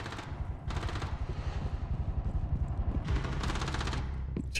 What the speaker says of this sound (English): Hear an LMG going crazy.